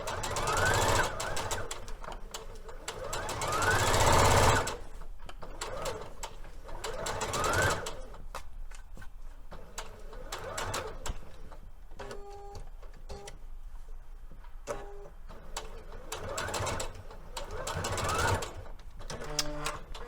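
A sewing machine hems a Liberty London fabric sleeve in repeated rapid whirring bursts of stitching, loud and close, broken by brief pauses and light handling noise.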